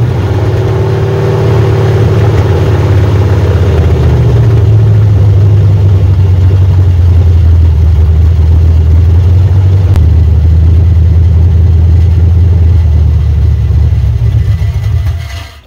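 A 1986 Chevrolet Silverado truck engine runs loud and close, a deep steady drone that shifts pitch slightly as the revs settle, then cuts off abruptly at the end.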